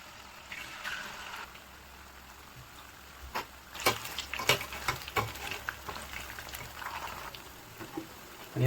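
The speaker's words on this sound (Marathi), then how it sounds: "तेल चांगलं गरम झालं आपलं, आता आपण पनीरचे पीस याच्यामध्ये फ्राय करून घेऊया।" Paneer pieces frying in hot oil, a soft continuous sizzle with crackling pops and spatters that grow busier partway through, close and fairly quiet with no talk.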